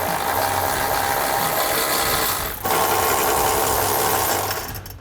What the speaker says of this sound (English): So now we can take a 15mm socket on a ratchet